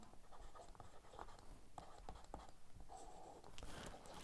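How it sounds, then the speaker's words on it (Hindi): Handwriting of notes is close and faint: a pen scratches continuously across paper in short irregular strokes. "तो इनको लिख लेते हैं। आइए लिख लेते हैं।"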